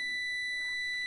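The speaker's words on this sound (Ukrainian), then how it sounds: "Він пищить. У нас цей конденсатор пробитий." A faulty capacitor in an LG microwave oven gives off a steady high-pitched electronic squeal, sustained and fairly loud throughout, with no talking over it.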